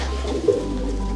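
A female racing pigeon gives a brief, soft coo in a breeding loft, heard once midway through a steady background hum.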